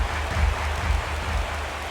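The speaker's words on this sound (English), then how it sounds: "Crowd gets up for the 3-2." Crowd noise swells in an MLB The Show 17 baseball game between the Angels and Mariners as fans rise for a full count, a steady broad roar with no talk over it.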